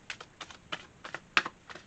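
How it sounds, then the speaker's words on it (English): Tarot cards being shuffled by hand, a quick series of soft papery clicks and flutters in short bursts, fairly close and quiet with no voice. "I'm going to do two more shuffles, and I'm going to take the top card"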